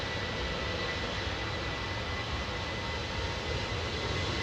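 Freighter aircraft at East Midlands Airport during night operations, a steady broadband engine roar that holds loud and unbroken throughout, with no voices over it.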